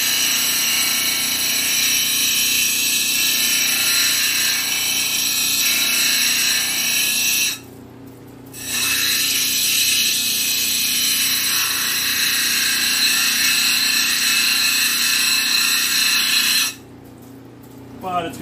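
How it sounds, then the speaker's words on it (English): A water-cooled grinding wheel tears chunks off rock, giving a loud, steady harsh grinding roar that cuts out twice briefly, around the middle and near the end, before resuming. "So this wheel is taking off huge chunks of material."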